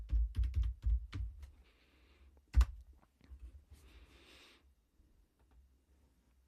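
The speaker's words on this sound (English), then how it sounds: "I am going to type in pip install" Fingers type on a computer keyboard, a quick cluster of sharp keystrokes at first, then sparser, softer clicks and taps with short pauses, close and quiet with no voice.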